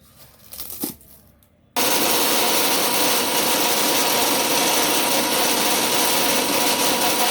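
Mixer grinder grinding curry leaves into powder: after a brief quiet handling sound, the motor starts abruptly and runs loud and steady at high speed to the end.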